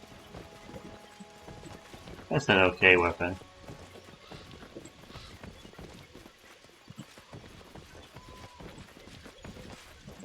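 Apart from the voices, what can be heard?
horse hooves and neighing in video game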